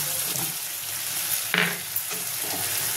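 Whole green chillies and soy sauce sizzle in a hot pan, a steady close hiss with a brief flare of crackling partway through.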